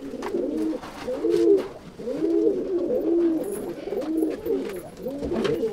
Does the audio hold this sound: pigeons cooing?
yes